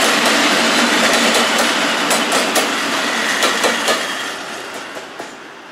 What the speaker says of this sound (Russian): Сейчас поедут поезда.